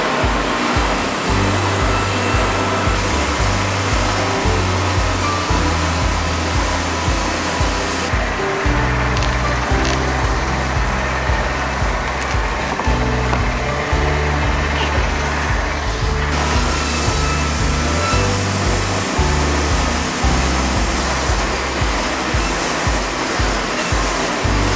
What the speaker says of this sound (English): So we're gonna fire up the sawmill and get to cutting.